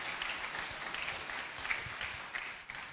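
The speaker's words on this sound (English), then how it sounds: "that deserves a round of applause for what the King has been really doing" An audience applauds at an art awards ceremony at Manhyia Palace, with steady, moderately distant clapping and a few sharper individual claps standing out from the even wash.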